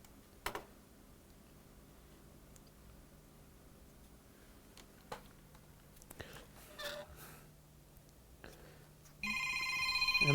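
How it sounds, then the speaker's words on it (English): A telephone rings near the end, with electronic ring tones arriving after quiet stretches of faint clicks and handling noise at a workbench where a MacBook logic board with a power fault is being repaired. "And the phone is ringing."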